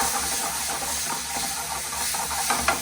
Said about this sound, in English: that's when we will add a half cup of capers with the juice